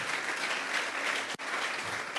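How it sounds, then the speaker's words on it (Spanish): A church congregation claps continuously through the whole stretch, a dense, steady wash of applause from many hands, broken only by a single brief dip. "Regálele ofrenda de palmas al Dios de la gloria."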